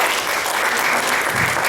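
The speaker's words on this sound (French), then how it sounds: "Elle est de retour, Madame Paulette Correa, que je demande qu'on applaudisse." Audience applause at a community gala event, dense and steady clapping from a crowd filling the whole moment at close range.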